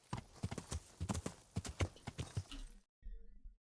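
Horse hooves clip-clopping at a steady walking rhythm in the medieval game Kingdom Come Deliverance, close and distinct, with a brief pause before a few final steps.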